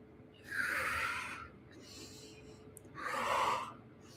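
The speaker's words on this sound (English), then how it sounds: "3 more breaths." Two slow, deliberate breaths of a seated breathing exercise, each a soft airy rush lasting about a second, close to the microphone with a quiet pause between them and no talking.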